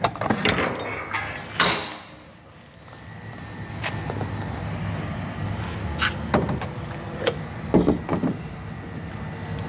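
Opening the rear door of a Ford box truck with an extended cab sleeper gives one sharp metallic clank near the start, followed by scattered lighter knocks and handling noises over a low background hum.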